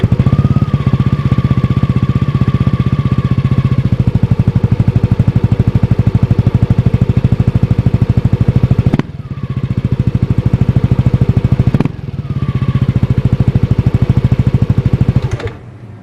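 A Yamaha Aerox scooter fitted with a Rogue One aftermarket exhaust idles close by with a rapid, throbbing putter. It blips twice, cutting off briefly each time, and falls silent at the end.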